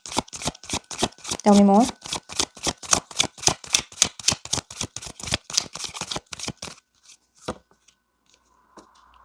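A tarot deck is shuffled in a rapid, even run of crisp riffling flicks lasting several seconds, then trails off into a few scattered card taps, with a voice speaking briefly.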